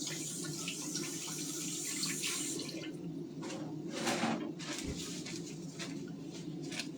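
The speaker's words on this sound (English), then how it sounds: "I'll wash my hands real quick." Tap water runs steadily into a kitchen sink while hands are washed, a continuous hiss with splashing and dripping as the hands move under the stream, nearby and moderately loud, with no voices.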